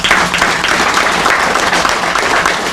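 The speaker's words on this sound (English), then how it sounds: "So give them a round of applause." Audience applause at the opening of a renovated branch library, a dense, steady wash of clapping that stays loud and close for the whole stretch with no voices breaking through.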